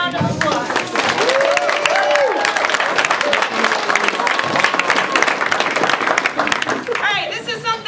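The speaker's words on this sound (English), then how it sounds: "Let's give these 12 kids a big round of applause." Audience applause after a school spring term show, dense sustained clapping from a crowd with a person talking over it near the start and voices near the end.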